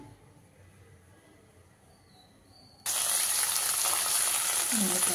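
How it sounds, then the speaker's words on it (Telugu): Coriander leaves hit hot oil in a pan and a sudden loud sizzle bursts up after a quiet opening, then keeps crackling steadily to the end. "ఇంకా 2 స్పూన్ల ఆయిల్ వేసిన తర్వాత దీంట్లో కొత్తిమీర వేస్తాను."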